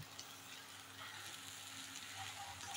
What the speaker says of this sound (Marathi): आता गॅस मोठा करून एकदा भाजी परतते की मग आपली भाजी झाली तयार.